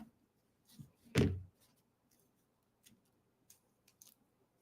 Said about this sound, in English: So here's a knife. So if I cut into this